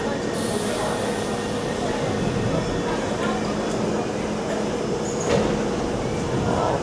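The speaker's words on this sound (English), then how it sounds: "Train's now departing." A London Underground Piccadilly line train pulls away inside the station at King's Cross St Pancras, its steady rumble and rising electric whine filling the platform, with a high tone near the start and a brief squeal later on.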